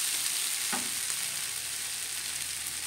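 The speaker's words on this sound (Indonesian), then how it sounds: "tinggal diaduk-aduk sampai semuanya tercampur rata" Vegetables, a bitter gourd dish, fried and stirred in a pan, heard as a constant quiet sizzle with a faint scrape or two, no voices.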